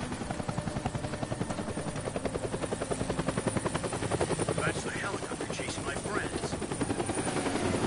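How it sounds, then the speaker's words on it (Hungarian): A helicopter in the video game Deadlight thumps with a steady, rapid rotor beat throughout, loud and continuous, while a few brief voices are heard over it. "Az is helikopter."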